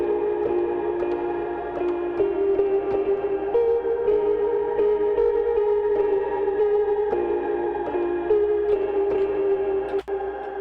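Keyboard sample from a thrift store instrument, run through grain reverb pitched up an octave plus effects, sustains as a steady, dense, shimmering pad with layered tones for the whole stretch, alone and without voices.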